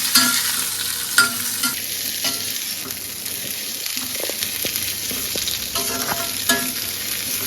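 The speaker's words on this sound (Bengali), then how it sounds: "বিনসটাও দিয়ে দিলাম ভাজবো ভালো করে" Carrots and beans frying in a pan, steady close sizzle broken by repeated scraping and stirring strokes of a spatula, with occasional sharper clicks against the pan.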